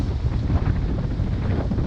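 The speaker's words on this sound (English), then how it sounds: "And it's windy out here." Strong wind gusts at a floating dock in the Melbourne, Florida area after Hurricane Ian, loud buffeting roar and microphone rumble close up, pulsing unevenly with faint water movement beneath.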